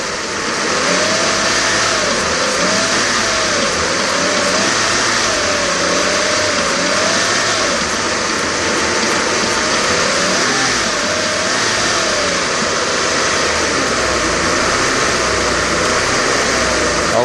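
A Mercedes S600 engine in limp mode idles loudly and unevenly close by, a continuous droning hum whose pitch wavers up and down instead of holding steady.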